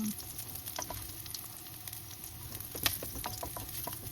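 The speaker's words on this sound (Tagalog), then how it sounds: "Hanggang mag-golden brown yung ating bawang." Garlic fries in a pan on the way to golden brown, giving a steady close sizzle with scattered pops and a few clicks of stirring, with no talk.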